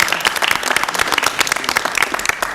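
Applause at a university board of curators public meeting: a short burst of dense clapping from a seated group, steady and moderately loud throughout, with no speech over it.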